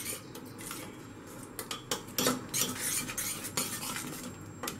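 A spoon stirs spices such as chili powder, turmeric, coriander and cumin in a metal pressure cooker, giving rapid clinking and scraping against the pot, close and busy, with no voice.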